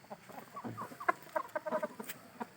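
Chickens about five to six months old, of a wild junglefowl type, cluck and chatter faintly in a scattered, irregular series of short calls.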